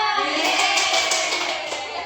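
Third-grade children clapping hands in an expression clapping game, a quick bright patter of claps carrying on without pause, close and fairly loud.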